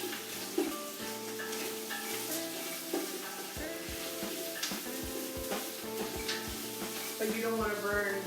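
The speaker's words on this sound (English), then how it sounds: "You want to brown your sausage as much as possible." Sausage browning in oil in a pan over medium heat for seafood gumbo, a steady sizzle running throughout with scattered utensil clicks and a pan knock, faint tonal background sound underneath.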